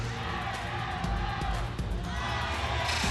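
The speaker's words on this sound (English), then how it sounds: "Great enthusiastic crowd on hand" Enthusiastic crowd at the NCAA men's gymnastics national championship, a steady dense roar of cheering and yelling voices filling the arena, loud and continuous throughout.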